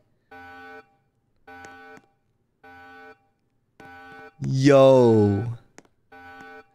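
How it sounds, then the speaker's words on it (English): A prison alarm buzzer in Roblox Brookhaven sounds in regular pulsing bursts, each about half a second with short gaps, loud and steady-pitched, while a voice cuts in briefly between the pulses. "Prisoner alarm. Y'all hear that?"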